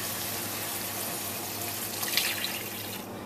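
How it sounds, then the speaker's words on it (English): Water, about 2 cups, poured into a pot for Tibetan thenthuk noodle soup, a continuous splashing rush for a few seconds, close and steady, briefly brightening near the end. "Now I'm gonna add the water."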